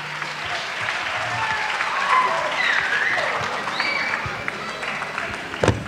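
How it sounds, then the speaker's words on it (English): An audience applauds a performer at a 1990 town talent show in Windsor, Connecticut, with sustained, fairly loud clapping that rises and fades over several seconds, some crowd voices mixed in. "another round of applause for Tamika"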